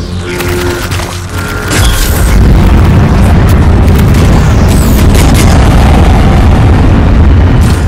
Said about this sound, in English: Cargo rocket is returning to orbit.